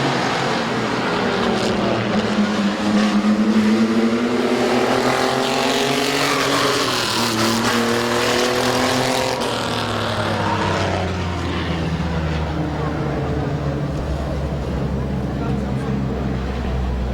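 Race cars roar around a turn at Midvale Speedway, a dense engine drone with rising and falling pitch sweeps as the pack passes, loud and continuous, with an announcer talking over it.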